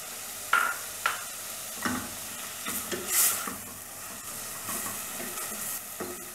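Chicken with chopped parsley frying in a pan, a steady sizzle broken by scraping stirs and occasional sharper hisses, close and moderately loud with no voices.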